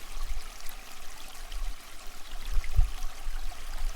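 Continuous gentle rush of water from a small waterfall, steady and moderately close with a faint low thump partway through.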